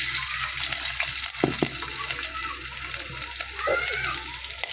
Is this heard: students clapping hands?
no